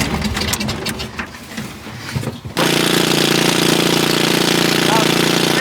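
A 1980 Daihatsu Kei mini truck engine runs with the choke on, a loud steady droning roar that starts abruptly and holds even. Voices and clatter come just before it.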